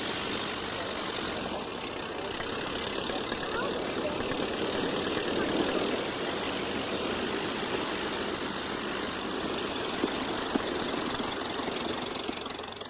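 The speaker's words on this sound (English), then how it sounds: "And the engine is still running" A Tiger Moth biplane engine runs steadily at a moderate idle, a continuous broadband drone with a faint knocking roughness, held at an even level throughout with no voices.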